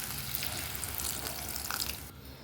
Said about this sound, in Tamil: ஒரு 150 ml தண்ணி சேர்த்துக்கலாங்க.